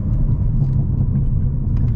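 A lightly modified BMW M340i sedan gives a deep, steady engine rumble up close, a low continuous drone with no voices over it.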